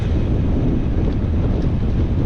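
Strong wind roars into the microphone during a long-distance randonneuring bike ride through hilly lake country, a loud, steady buffeting rumble with no voices.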